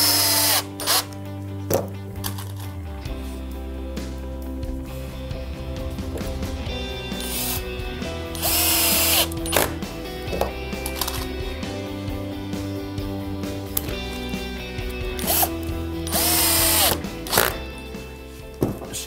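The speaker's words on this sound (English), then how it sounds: "drive a few more screws right the way in so it's nice and tight" A power drill driving screws into a pallet-wood bench, whining up in repeated long runs with shifting pitch as each screw sinks tight, loud and close with brief pauses and clunks between.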